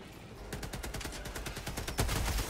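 Rapid barrage of explosive orbital strike blasts in Helldivers 2, a dense string of sharp cracking impacts hammering in quick succession, loud and close, with a heavier boom near the end.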